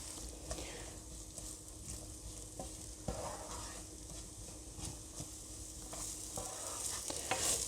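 Spices and onions stirred in a frying pan for a mushroom curry, a soft steady sizzle with scraping stirring strokes, close and fairly quiet, no talking.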